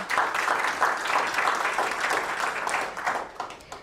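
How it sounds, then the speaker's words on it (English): An audience at an awards finalist announcement gives a round of applause for an honoree, a moderately loud, even patter of many hands clapping that holds for a few seconds before thinning out at the end. "Let's give a round of applause for Dr. Pulselli Jr."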